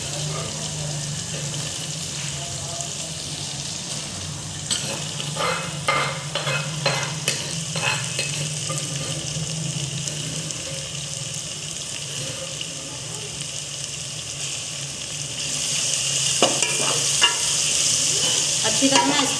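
Onions sizzle in hot oil for chicken karahi, then garlic ginger paste goes in and is stirred, with continuous frying hiss and scraping spoon strokes, the sizzle swelling louder near the end.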